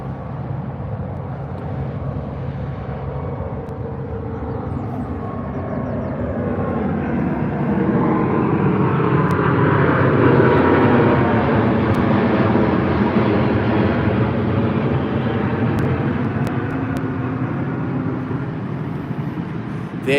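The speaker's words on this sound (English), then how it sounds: "there's an A350 1000 British Airways taking off" British Airways Airbus A350-1000 taking off from Heathrow, its jet engine roar building from a distant rumble to a loud, sustained swell with a faint whine, then easing slightly as it climbs away.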